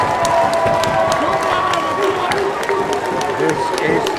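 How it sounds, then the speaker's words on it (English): Crowd at an amateur boxing match clapping and cheering both fighters after the bout, a loud sustained roar of applause with shouts and whistles mixed in, close and dense throughout. "Can we give both boxers a massive, massive round of applause"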